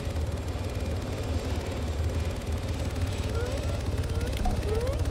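Helicopter flying near a NATO airfield in the military video game Arma 3, a steady loud rotor and engine drone that holds constant throughout.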